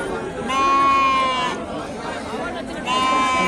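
Sheep kids, four to five months old, at the Guntur sheep market bleat loudly up close in two clear calls, amid a murmur of chatter in the background.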